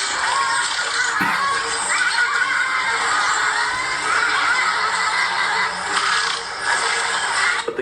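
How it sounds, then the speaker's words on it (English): Giant otters surround a black caiman and harass it with a shrill gang cry like screaming children, a dense, continuous chorus of high overlapping shrieks held loud and close throughout. "Adult otters will surround the caiman and harass it with a gang cry that sounds way too much like screaming children."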